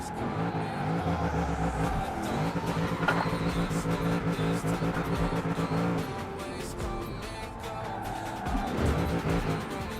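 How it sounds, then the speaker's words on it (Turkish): A Mitsubishi Lancer Evo engine is held at full throttle, revving hard and bouncing off the rev limiter in a choppy stuttering buzz, loud and close, then dropping back before rising again. "Mesela burada full basayım. Devir kesmeye başlıyor falan zaten anlıyorsunuz yani."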